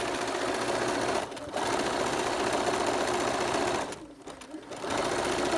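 Continuous sewing machine whirring while stitching a rope bowl, steady and loud, with two short pauses where the motor slows before the run resumes.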